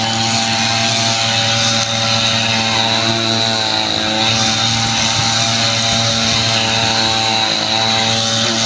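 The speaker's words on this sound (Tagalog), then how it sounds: "grass cutter niya." A string trimmer (grass cutter) clearing grass and weeds outdoors, its small two-stroke engine droning loud and close at a steady high whine with only slight dips in pitch throughout.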